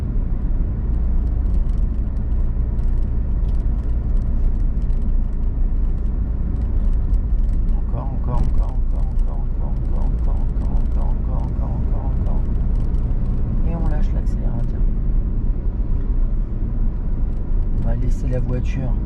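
Car engine steadily accelerating in third gear during a driving lesson, a constant loud engine drone under intermittent talk.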